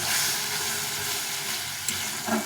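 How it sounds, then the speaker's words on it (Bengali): Water hits a frying masala for a fish curry, giving a loud, dense sizzle and hiss right up close that holds steady for a couple of seconds, with a brief scrape near the end. "একটু জল দিয়ে দেবো দিয়ে এটাকে ভালো কষিয়ে নিতে হবে"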